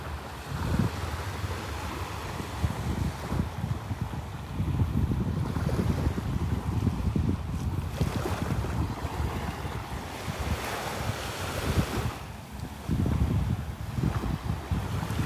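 A boat motors against the current up the Cocohatchee River near Wiggins Pass in North Naples, Florida, its low steady engine rumble blending with heavy wind buffeting and water wash throughout, continuous and fairly close.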